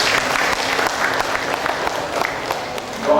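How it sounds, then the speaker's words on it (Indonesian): An audience at a cooperative council inauguration event applauds continuously, a dense, loud wash of many hands clapping throughout, with a slight swell at the end. "Tepuk tangan untuk beliau."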